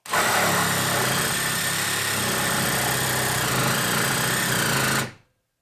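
A Dewalt 12V cordless hacksaw fitted with a 6 TPI blade runs through a cut: a steady, loud motorized buzz with rapid reciprocating rasp that holds for about five seconds, then cuts off abruptly.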